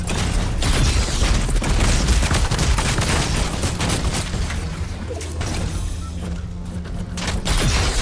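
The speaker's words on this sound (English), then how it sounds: "We're getting shot at" Dense, loud video game gunfire with rapid overlapping shots and booms that run without a break through the whole stretch.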